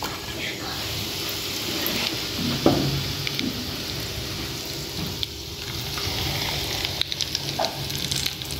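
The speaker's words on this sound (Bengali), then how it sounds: "চিলি ফ্লেক্সের ভিতরে এই গার্লিক অয়েলটা দিয়ে দিলাম।" Hot garlic oil poured over chili flakes crackles and sizzles loudly and continuously at close range, with occasional sharper pops in the dense frying noise.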